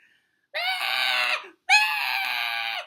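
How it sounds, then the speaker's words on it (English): Performer voicing a turtle character in a tantrum, two long, loud, high-pitched screams with a brief gap between them, each held about a second, clear and close with no other sound. "She threw back her head and screamed at the top of her lungs."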